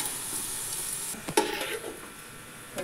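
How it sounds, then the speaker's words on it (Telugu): Masala for chicken dum biryani, with plenty of onion, is fried and stirred in a pan, giving a steady soft sizzle broken by a few louder scraping stirs, close and fairly quiet. "ఇంకా ఫ్రై కావాలండి."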